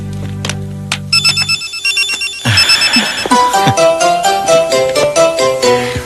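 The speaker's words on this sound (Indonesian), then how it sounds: "Telepon." A telephone rings in a home during an Indonesian drama scene, its melodic electronic ringtone repeating loudly and steadily with no voices over it.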